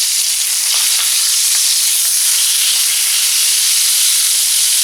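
Pork chops fry in a hot pan on a stove at medium to high heat, giving a steady, loud, continuous sizzle with constant crackle and no pauses throughout.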